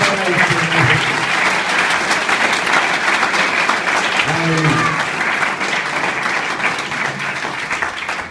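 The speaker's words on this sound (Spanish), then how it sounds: "Un aplauso fuerte para el Señor." A church congregation breaks into loud, sustained applause during a sermon, a thick and steady roar of clapping with a few voices calling out inside it before it eases slightly at the end.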